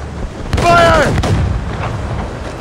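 Ship cannon fire in the Assassin's Creed Rogue video game, a loud close boom with a rolling, decaying rumble and crackle afterward.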